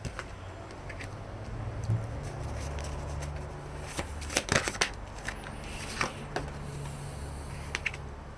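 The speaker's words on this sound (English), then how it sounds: "we're going to pull extra cards for clarity" Oracle cards are drawn from a deck at close range, giving a string of soft papery flicks and snaps that bunch up midway, over a faint low room hum.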